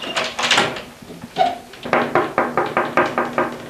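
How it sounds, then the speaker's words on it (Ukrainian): An office door is shoved against a person during a scuffle, giving a series of sharp wooden knocks and bangs. A few irregular thumps come first, followed by a steady run of about eight rhythmic knocks, close and fairly loud. "То штовхає у двері журналістку"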